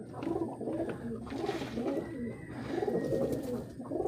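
A racing pigeon coos in soft, repeated low rolling phrases, close by and fairly quiet, with no talking.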